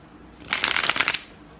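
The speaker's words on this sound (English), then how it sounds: "I'm going to shuffle, and then I'll be right back." Oracle cards shuffled by hand in a short, close riffling burst lasting under a second, with no talking.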